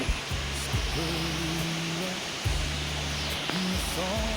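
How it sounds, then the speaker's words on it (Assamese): Water spills over the top of Hawai Dubi waterfall in the Dihing Patkai forest during a low-water season, a steady broadband rush heard close by, with a few faint tonal sounds passing over it. "ইয়াৰ পৰাই তললৈ পানীখিনি নামি গৈছে"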